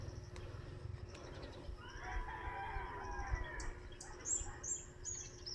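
Many birds in trees outdoors on a cloudy, hot morning just after rain: a rooster crows amid scattered chirps and calls, near and far, over a steady low background rumble.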